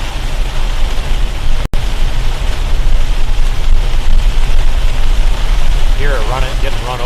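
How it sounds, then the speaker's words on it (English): Car tires rolling over small hail scattered across a wet road during a Kansas hailstorm, a loud, steady hiss and crunch with one brief dropout and some faint chirping tones near the end. "We got a bunch of hail on the road."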